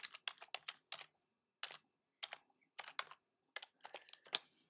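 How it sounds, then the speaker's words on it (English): A web address typed on a Mac keyboard, with quick bursts of close, crisp key clicks broken by short pauses, all quiet and with no talking. "you just type in photos.google.com"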